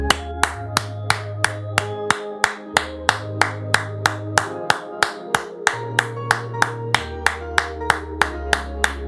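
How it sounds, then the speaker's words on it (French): A church congregation clapping in steady rhythm during a prayer service, loud regular claps about three per second throughout, over a sustained low organ or keyboard tone. "nous applaudissons le Seigneur parce qu'on fait nous vivants"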